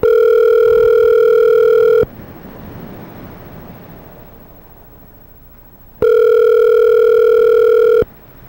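A telephone ringback tone sounds during an outgoing phone call, a loud steady electronic tone lasting about two seconds, then a stretch of quiet line hiss, then the same two-second tone again.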